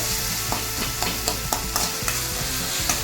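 Chopped tomatoes sautéing in a pan, a steady sizzle broken by regular scraping stirs of a spatula, close and fairly loud, with no voices.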